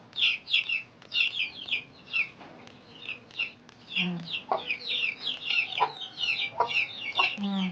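Many chicks peep and cheep continuously in high, chirpy bursts, with occasional clucks and a faint voice underneath.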